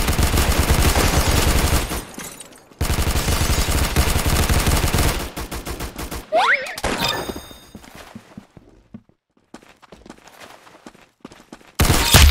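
Loud bursts of rapid video game gunfire rattle in long volleys, broken by brief pauses and a few sparse shots, with voices talking between them.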